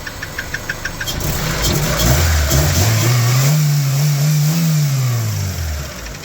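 A Honda Civic EF sedan engine idles with a steady tick, then revs up and holds a raised, slightly rough drone before easing back, loud and close, with a ticking valve noise.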